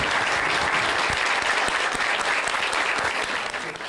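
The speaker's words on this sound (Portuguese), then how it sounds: "Uma salva de palmas para a Marina" A crowd applauds steadily and loudly for a guest named Marina at a televised event against child abuse, a dense wash of clapping that holds throughout and thins slightly at the end.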